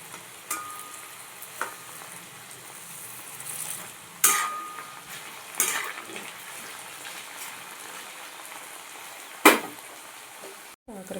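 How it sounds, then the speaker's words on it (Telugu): Bitter gourd frying in sunflower oil, a soft steady sizzle broken by a few sharp clinks and scrapes of a ladle stirring and pressing the pieces, close by with no talk. "కాకరకాయ ఫ్రై అయితే రెడీ అయిపోయిందండి."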